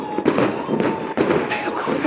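New Year's night fireworks burst repeatedly in irregular cracks and booms, loud and echoing across an outdoor neighborhood, with faint voices mixed in.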